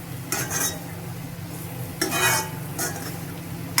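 Chicken curry masala being stirred in a pan over a low flame, with intermittent scraping bursts of a spoon against the pan over a steady low sizzle, close and alone.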